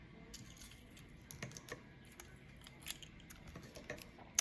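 Scissors cut through paper card in short, quiet snips and clicks spread irregularly across a few seconds, close and faint, with no speech.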